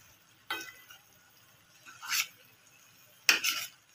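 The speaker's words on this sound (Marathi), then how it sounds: "मस्तपैकी वांगे कलटून घेतले भाऊने मसाल्यामध्ये" Eggplant is turned through masala gravy in a pan with three separate scraping stirs, soft and close, with faint sizzling in the quiet stretches between them.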